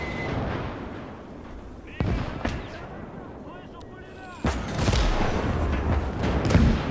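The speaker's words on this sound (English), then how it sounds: "That's a flak cannon shooting at us" Flak cannon fire in the WWII game Operation Mars, heard as two sharp booms and bursts with rumbling battle noise between them, moderately loud.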